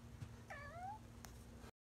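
A cat meows once, a short rising-then-falling cry heard close by against a faint steady hum, with nothing else around it.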